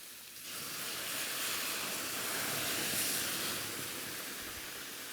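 Beer poured into a hot wok holding lobster sets off a steady, loud broadband sizzle and hiss that builds quickly and holds throughout, close and alone with no talking.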